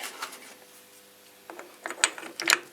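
A lathe chuck key turns in a chuck fitted with soft jaws, giving sparse metallic clicks and ratcheting taps. They are quiet at first and grow sharper and louder toward the end, with no talking.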